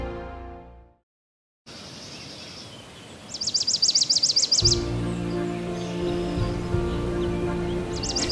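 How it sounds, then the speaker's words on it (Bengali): A bird trills in a quick repeated series over a steady rushing wash of the Parvati River flowing nearby, in Himachal Pradesh. "পাখিদের গুজন আর পার্বতী নদীর কলকল শব্দেই দিনটা শুরু হলো আমাদের কাশলে"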